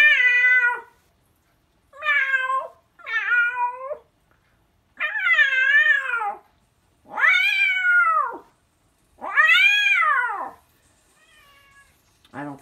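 A domestic cat meows loudly and close up, about seven drawn-out calls spaced by short pauses, some rising and falling in pitch, with nothing else in between.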